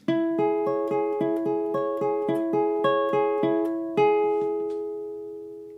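Clean guitar picks the ending of verse 3 of a song, a run of single notes in a steady rhythm, ending on a held final note that rings out and slowly fades.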